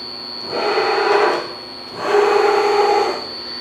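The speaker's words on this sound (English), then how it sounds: "I'm not sure if you can see the table going, but you can certainly hear it." A Bridgeport CNC milling machine table traverses along its X and Y axes in two close, roughly one-second bursts of grinding mechanical whine. A short pause separates the bursts, and a steady high electrical tone runs beneath both.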